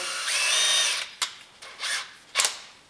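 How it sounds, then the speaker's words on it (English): A power drill drills holes with a large 29/64 bit, running for about a second, then giving several short trigger bursts with pauses between them. Close and loud. "I got my big drill."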